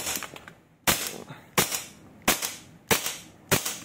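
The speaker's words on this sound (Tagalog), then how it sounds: "CC Shadow 2 Orange firing." A CC Shadow 2 Orange pistol fires five sharp, loud cracks during a chrono check, evenly spaced about every three-quarters of a second, each followed by a short decaying tail and quiet background between shots.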